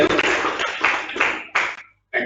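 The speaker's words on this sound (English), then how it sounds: "Huge round of applause for all the teams doing well" A crowd applauds the teams at a zonal-level quiz competition in short bursts of clapping with brief breaks, ending in silence before one more burst starts.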